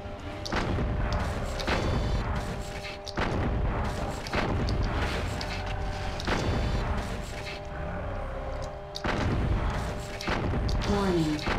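Repeated heavy weapon salvos boom from a BattleMech in MechWarrior 4: Mercenaries, a near, loud volley of thuds and blasts recurring every couple of seconds under dense game noise and steady alarm tones.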